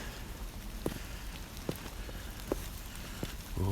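Rain falls steadily on an outdoor surface near some steps, a constant soft hiss with a few sharper drips standing out at intervals.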